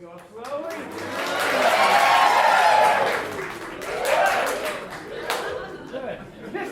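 A crowd claps and cheers in two swelling waves, loud and close, with scattered voices and laughter mixed in.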